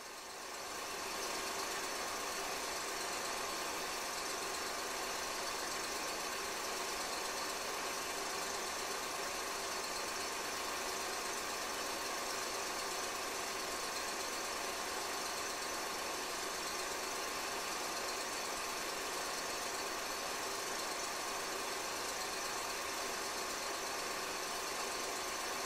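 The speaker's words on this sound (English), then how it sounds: "A pair of maroon Alco RS units was shoving a cut of cars over the hump." Pair of maroon Alco RS diesel locomotives shoving a cut of freight cars over a railroad hump yard in the 1960s Northeast, a steady broadband engine rumble and hiss holding constant and fairly loud throughout, with no talk.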